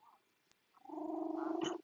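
Close, loud purring from a long-haired cat swells after a quiet start and holds as a steady, pulsing drone for about a second before cutting off.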